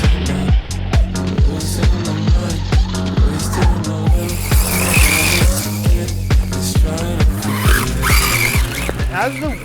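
An MJX 1:10 scale RC rally car slides and skids across grass, its high-pitched electric motor whining and revving in rapid repeated bursts, loud and close throughout.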